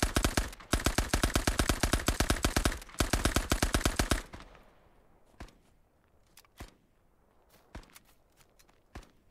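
A Sten submachine gun in a Commonwealth-side shooter video game fires rapid bursts of about four seconds, loud and close, followed by scattered single distant shots and footsteps.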